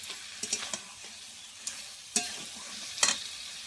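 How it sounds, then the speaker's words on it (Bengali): A metal spatula stirs katla fish heads and fried potatoes in hot spiced oil for a Bengali muri ghonto, giving scattered scraping strokes over a soft, steady sizzle, close and alone. "মাছের মাথার সঙ্গে একসঙ্গে আলু মিশিয়ে নেব।"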